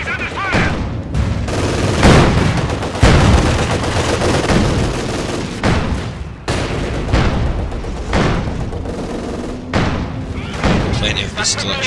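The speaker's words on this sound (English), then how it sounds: "Taking machine gun fire." Sustained machine gun fire and explosions in a Company of Heroes 2 3v3 match fill the scene with dense, continuous gunfire, thuds and booms, while in-game voices are mixed in.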